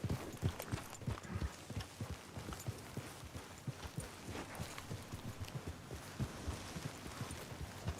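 Rhythmic hoof clops trot steadily in Red Dead Redemption 2, layered and close, several horses moving together over a soft background hum.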